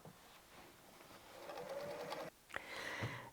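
A sewing machine stitching a seam on a fabric appliqué flower made from scraps, a steady motor whir with needle clatter that briefly stops, then resumes for short bursts.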